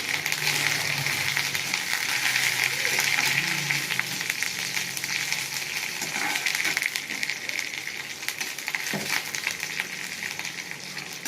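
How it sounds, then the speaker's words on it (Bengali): Neem leaves crackle and sizzle steadily in hot oil in a wok, a continuous loud frying hiss with occasional spatters and stirring scrapes, no voices. "নিম পাতা দেবো, একটু ভাজা ভাজা করে নেবো।"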